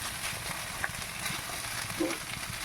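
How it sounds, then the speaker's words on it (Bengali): Chowmein being stirred as it fries in a pan with sauce, a continuous crackling sizzle with occasional scrapes and clinks of the utensil, close and steady throughout. "এবার এটাকে একটু নাড়াচাড়া করে নেব"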